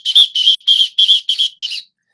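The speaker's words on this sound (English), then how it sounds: "I just like blowing my whistle here in the office." Someone in a school office blows a whistle in six quick, loud, shrill blasts of even rhythm, each a fraction of a second, the last one slightly weaker.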